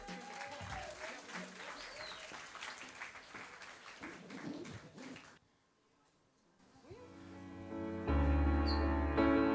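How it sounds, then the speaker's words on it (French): A party audience claps for a dance trio, a crackling burst of applause that dies away into near silence before soft music begins. "Veuillez les applaudir bien fort"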